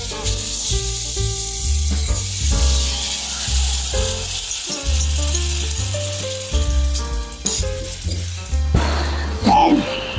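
Garlic and soy glaze sauce sizzle and rattle in a hot pan, a loud continuous fry with scraping and clinking of a utensil stirring, while steady background music plays throughout.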